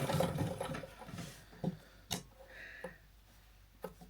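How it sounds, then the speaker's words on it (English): A vintage sewing machine stitching quietly while old quilt blocks are pieced into a new quilt: a soft, low whir with light ticking clicks, fairly faint and close, with no talking. "I'm amazed how quiet the sewing machine is."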